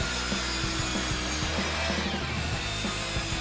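A hand saw cuts through a 1x2 wooden board in steady, rapid back-and-forth strokes, a close, loud, continuous rasping with no talk.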